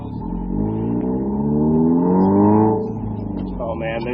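Subaru car driving around after a rattle repair, a steady engine tone that rises and swells in the middle and then eases off, heard from inside the cabin; speech is likely mixed in.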